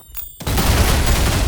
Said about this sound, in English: that shoots the boss again for a total of 3 rail cannon shots in less than 3 seconds